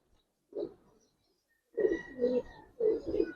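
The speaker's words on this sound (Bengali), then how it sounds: "কবুতর খুব সুন্দর কবুতর।" Young Giribaz silver pigeons coo close by in three soft, throaty bursts separated by short pauses.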